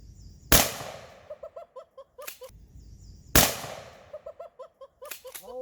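Two loud shotgun blasts of buckshot hit a laptop hard drive outdoors, each a sharp close boom followed by ringing rattles and short echoing clatters as debris and metal respond.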